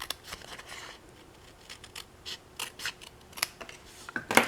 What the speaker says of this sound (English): So we're going to cut this.